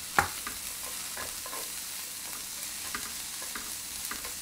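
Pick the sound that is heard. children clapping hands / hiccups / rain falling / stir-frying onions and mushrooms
stir-frying onions and mushrooms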